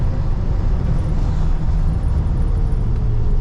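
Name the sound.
1985 Chevy K10 truck driving in third gear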